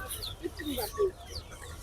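Soft, brief clucks and chirps from guinea fowl at a bird market, a few short calls close by against a quiet background murmur.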